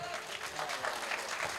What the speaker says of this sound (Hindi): एक बार जोरदार ताली इन लोगों के लिए बजा दीजिए